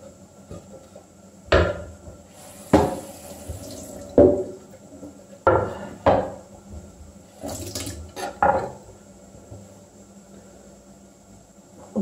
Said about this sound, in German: Und bedecke sie so lange mit ein bisschen Wasser.